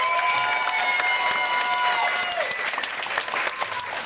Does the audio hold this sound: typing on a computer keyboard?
no